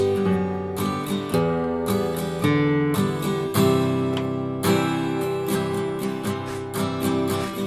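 A steel-string acoustic guitar plays a chord progression with a bass line stepping downward, strummed chords ringing clearly and continuously up close with no voice over it.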